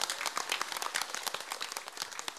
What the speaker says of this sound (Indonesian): Ya wis tepuk tangan dulu buat orang mijen luar biasa.